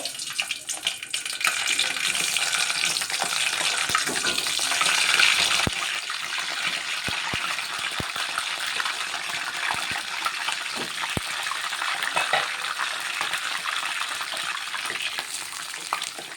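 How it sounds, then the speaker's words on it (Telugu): Eggplant pieces dropped into hot oil in a pan, heard as a continuous loud crackling sizzle with scattered sharp pops and clicks throughout, and no talk. "ఇప్పుడైతే ఈ ఆయిల్లో నేను వంకాయ ముక్కలు వేసుకుంటున్నా."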